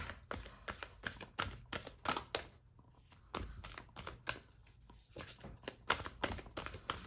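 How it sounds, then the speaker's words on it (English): Deck of cards being shuffled by hand, a run of quick crisp riffles and taps in close, quiet bursts with brief gaps. "I'll do one more big shuffle here"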